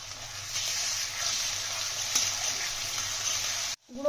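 Ginger-garlic paste sizzles with onions in a hot pan in a steady, close frying hiss, then cuts off abruptly near the end.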